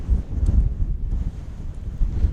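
Strong wind roars over the exposed gritstone ridge of Stanage Edge in the Peak District, buffeting the microphone with a steady low rumble and gusty surges throughout, with no voices.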